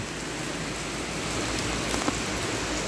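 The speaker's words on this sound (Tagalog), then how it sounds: "Ayun, lakas ng ulan. Walang tigil. Mula kagabi hanggang ngayon." Heavy rain falls without letup in Legazpi City, a dense, steady roar of water on surfaces that holds at an even, loud level throughout, with no voices.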